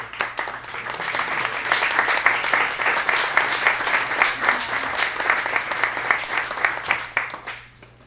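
Standing ovation from a Startup Grind Phoenix audience welcoming a speaker: dense, sustained applause with steady clapping that holds loud for about seven seconds before tapering off at the end.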